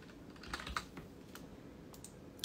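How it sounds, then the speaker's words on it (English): Typing on a computer keyboard to enter a word into Google Translate, a quick cluster of soft, close key clicks at the start and a couple of isolated taps later, over quiet room tone. "Google Translate, I type in Golgotha."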